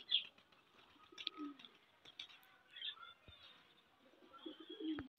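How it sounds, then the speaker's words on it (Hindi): Pigeons on a rooftop give soft coos and brief chirps among faint flutters as they fly and land, heard at a distance with quiet background noise. "ये देखें माशाल्लाह, हमारे कबूतर उड़ रहे हैं।"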